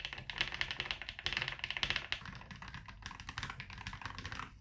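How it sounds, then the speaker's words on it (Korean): Close, quick typing on an Epomaker Magforce 68 keyboard with lubricated magnetic linear switches, a dense run of crisp but quiet clacks in steady bursts with no talking. "그 딱딱한 소리의 볼륨 자체가 굉장히 낮아서 조용한 키보드입니다."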